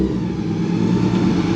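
A supercharged Nissan 350Z with a Procharger setup drones loud and close under steady throttle on its first drive, a dense continuous engine roar with no speech.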